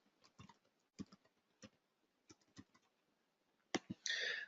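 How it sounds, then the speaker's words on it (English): Quiet, irregular bursts of typing on a computer keyboard, clustered keystrokes separated by short pauses, ending in a denser clatter of keys. "we are going to start by typing in busted tees"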